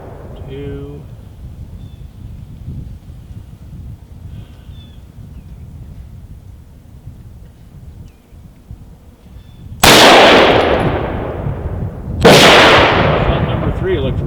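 A rifle fires Black Hills 77 grain OTM factory-second ammunition twice, about two and a half seconds apart. Each shot is a very loud, sharp crack followed by a ringing decay, after a quieter stretch where someone talks at the range.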